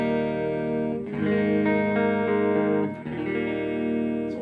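A clean electric guitar tone without the Ibanez AF2 flanger: sustained, ringing chords with a bright harmonic sound, one change of chord and a brief dip partway through, played alone at moderate volume.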